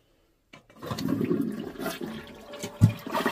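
After a moment of quiet, a newly installed Glacier Bay McClure one-piece toilet flushes nearby with a rushing swirl of water that surges, then gurgles as it keeps draining.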